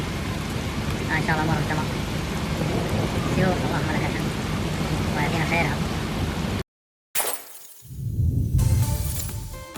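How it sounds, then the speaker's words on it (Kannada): Heavy rain pours steadily with a dense roar while voices talk over it. The sound cuts out briefly, then returns with deep rumbling flash-flood torrents. "سيول قويه الان"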